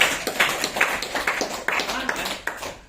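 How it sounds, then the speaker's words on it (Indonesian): Indoor audience at a team-work training class claps in scattered, uneven bursts under a talking voice, a few seconds of applause rather than a full ovation. "Tepuk tangan."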